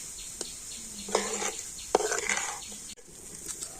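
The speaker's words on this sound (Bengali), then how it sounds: "এটাকে কিন্তু খুব ভালো করে এইভাবে মিশিয়ে নিতে হবে" A spoon stirs a gram flour and milk mixture in a pan with the heat switched off, giving a few distinct scraping strokes against the metal amid a soft, quiet background.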